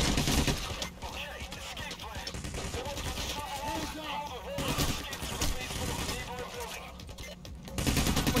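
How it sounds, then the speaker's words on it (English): Rapid shotgun gunfire and bursts of shooting in the Payday The Heist heist game, loud and sustained throughout, with brief pauses and a voice talking over the action. "Shotgun."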